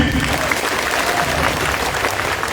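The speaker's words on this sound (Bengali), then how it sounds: "আমি 1 2 3 বলে জোরে একটা তালি দেবেন সবাই" A large audience at an Islamic cultural evening bursting into loud, dense, continuous applause, with crowd noise mixed in and voices faintly audible beneath the clapping.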